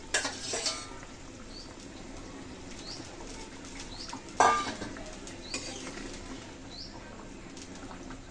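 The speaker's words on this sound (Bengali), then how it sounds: "এখন ভেজে রাখা মাছগুলো দিয়ে দিচ্ছি।" Fried bele fish dropped into a pumpkin bori, flat bean and potato curry, with a couple of clattering knocks and utensil scrapes over a low simmering sizzle.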